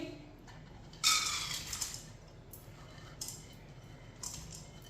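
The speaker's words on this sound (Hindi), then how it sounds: "कढ़ाई में दाल डालेंगे।" Washed, drained chana dal is tipped into a kadai: a brief gritty rush of grains lands in the pan, followed by faint scattered clinks in a quiet kitchen.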